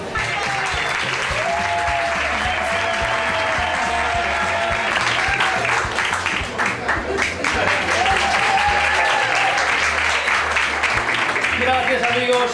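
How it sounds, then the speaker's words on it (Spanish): Live audience at a Spanish stand-up comedy show claps continuously for over twelve seconds, a thick, loud wash of hands with a few voices and cheers mixed in, and music playing underneath. "Gracias amigos por estos aplausos tan espontáneos"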